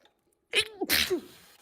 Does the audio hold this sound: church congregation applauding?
no